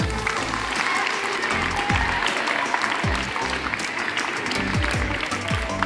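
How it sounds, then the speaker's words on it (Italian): A crowd applauds at a mini volleyball tournament awards ceremony for the sixth-place girls' team, with steady indoor clapping that goes on throughout, mixed with a few low voices in the background. "facciamo un applauso alla prima mezza"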